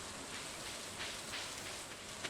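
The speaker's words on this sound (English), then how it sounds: "Day 3 always rains in Stardew" Steady, soft rainfall in Stardew Valley, a constant gentle hiss of drops with no speech.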